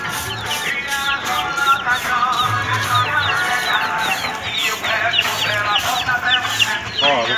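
Chickens in a backyard henhouse cluck steadily throughout, a dense overlapping chorus of short, bright calls at close range, with faint human voices now and then underneath.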